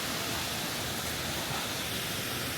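A waterfall on Savaii, Samoa, roars as a steady, dense broadband rush of falling water, loud and unbroken from start to finish with no other sounds standing out.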